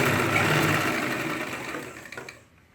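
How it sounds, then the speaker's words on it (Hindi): A sewing machine runs steadily while stitching a ladies' pant, a fast continuous whirring hum close by that slows and stops near the end. "इसको सिलाई लगाना स्टार्ट करेंगे"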